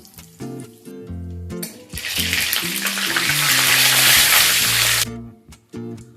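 Whole cardamom pods, cloves and a pinch of asafoetida hit hot oil for a vegetarian potato curry, a loud steady sizzle swelling midway and fading again, with background music throughout.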